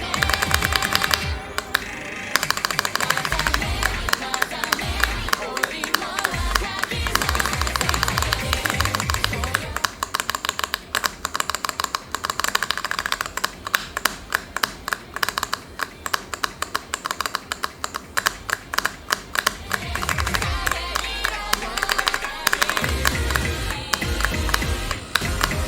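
Typing on very light red-style linear mechanical keyboard switches, keys not bottomed out, played in the rhythm game osu!: a dense, steady stream of quick clicky taps running throughout, close and fairly loud, with music audible underneath.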